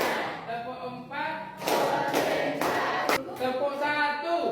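Students in a class clap together four times in quick succession during a teacher-led clapping game, the crisp claps following a stretch of talking.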